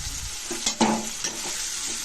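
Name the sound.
onion, coriander and tomato frying in pan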